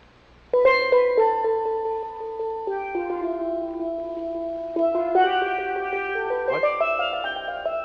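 A tenor steel pan plays a slow melody of ringing, bell-like sustained notes, struck one at a time up close with a clear metallic shimmer and overlapping decays, growing busier toward the end.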